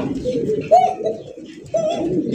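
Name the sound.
pigeons cooing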